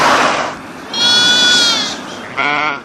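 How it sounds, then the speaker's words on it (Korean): Goats perched in argan trees in Morocco's semi-desert bleat loudly and close by: a long wavering bleat, then a shorter one, with a rough noise at the start. "염소가 나무에 올라가가지고 알간을 먹고 있어요."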